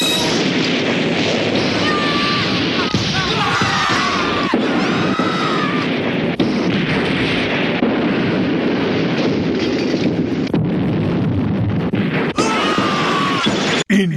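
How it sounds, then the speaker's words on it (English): Explosions and crashing impacts from 1999 tokusatsu series Kyuukyuu Sentai GoGoFive, dense repeated booms and smashes layered over a loud action soundtrack, continuous and intense throughout. "Explosions!"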